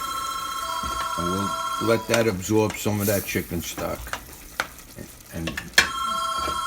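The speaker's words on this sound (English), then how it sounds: "I'm sorry about that phone call during that." A telephone rings in a kitchen while chicken stock and peas simmer and sizzle in a pan with pasta, its bell tone steady through much of the clip under stirring and a voice.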